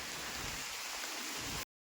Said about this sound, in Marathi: पाऊस खूप आहे पाहू शकता तुम्ही हा बघा सकाळपासून पाऊस लागत आहे